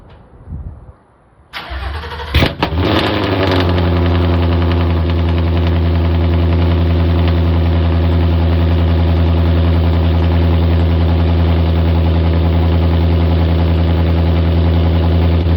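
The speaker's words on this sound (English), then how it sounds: "It's gonna be the first cold start with the dumps with the headers on." A race car fitted with headers and open exhaust dumps cold-starts with a cranking stutter, catches with a loud bark, then settles into a steady, rough, droning idle that runs on close by.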